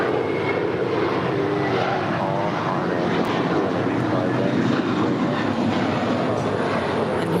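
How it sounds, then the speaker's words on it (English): A three-year-old JetBlue Airbus A321 jet departs LAX with a loud, continuous engine roar that stays steady and close throughout. "And here is JetBlue 1700 off to Fort Lauderdale, Florida. It's a 3-year-old A321."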